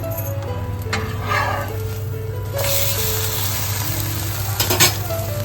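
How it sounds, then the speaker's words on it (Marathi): An omelette sizzles steadily in hot oil in a pan, a loud continuous frying hiss with a couple of sharp scraping clatters as it is turned over, while a dog barks in the background. "पॅनमध्ये तेल घालून घेतलंय मस्त इकडे ऑमलेट शिजलेलं आहे आता पलटी मारून घेतोय"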